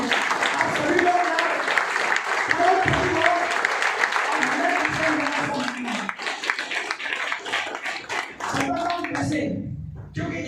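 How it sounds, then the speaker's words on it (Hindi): A seminar crowd claps loudly to welcome people onto the stage, a busy wash of applause that thins out toward the end while an amplified voice talks over it. "प्लेटफॉर्म के ऊपर आपकी जोरदार तालियों में स्वागत करता हूँ।"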